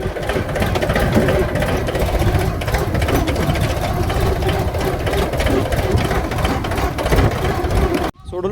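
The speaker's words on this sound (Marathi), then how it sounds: "आता ट्रॅक्टरने ब्लोअर घेऊन जाणार घराकडं" A tractor engine runs steadily on a farm, a loud, continuous low rumble with even mechanical chatter that holds for several seconds before cutting off abruptly near the end.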